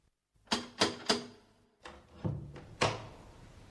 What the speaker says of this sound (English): He felt very nervous as he knocked politely on the front door.